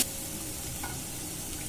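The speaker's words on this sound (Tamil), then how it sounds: "பச்சை வாசனை போகிற அளவுக்கு ஓரளவுக்கு நம்ம இதை வதக்கி விட்டுக்கலாம்." Ingredients for tomato rasam sauté in a pan with a soft, steady sizzle and faint stirring scrapes, quiet and close with no voices.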